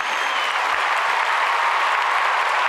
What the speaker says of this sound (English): Hold on, them get the stadium applause and big up to Sean Paul.